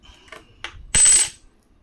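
A 1906 British India one rupee coin of pure silver drops onto a hard surface with a bright ringing clink, preceded by a couple of faint lighter taps, then quiet.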